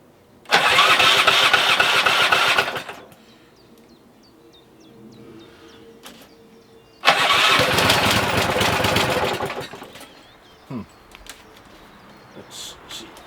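A 1992 Stiga Collector SE lawn mower engine fires up twice, running loud and rough for a couple of seconds each time before cutting out, with quiet gaps and faint birdsong between.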